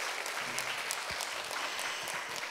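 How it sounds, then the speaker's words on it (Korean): Audience at a traditional Jindo performance event claps steadily after a stage act, a dense bright patter of many hands with a few sharp louder claps, moderately distant. "무대 다시 한번 큰 박수 주시기 바랍니다"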